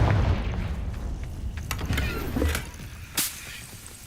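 Confringo blasting spell firing in Hogwarts Legacy, a sharp burst followed by a low booming impact and rumbling debris, with a second crack near the end amid game ambience.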